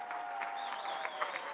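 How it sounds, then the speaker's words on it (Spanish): Faint, distant applause from a crowd at a political campaign event in New Jersey, a brief steady patter of clapping with no voices on top. "¡el aplauso que se sienta!"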